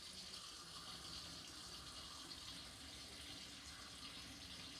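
Tap water runs in a steady, moderate stream over rice in a sink to rinse off the starch, a continuous even splashing with no talk.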